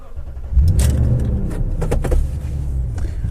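A 2015 Toyota Tundra TRD Pro's engine cranks and fires up, settling into a loud, steady low idle rumble with a faint jingle of keys, heard up close with nobody talking.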